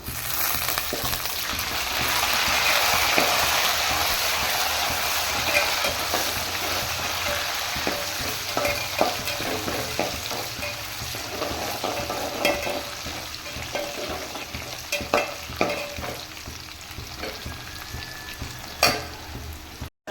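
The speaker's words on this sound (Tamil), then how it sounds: "வெங்காயம் நல்லா வதங்கிருச்சு நம்ம எடுத்து வச்சுருந்தா கருவேப்பிலை போட்டுக்கலாம்" Onions and curry leaves fry for a river jilebi fish curry, a steady, close, dense sizzle with intermittent scraping stir clicks and brief louder pops near the end; no one speaks.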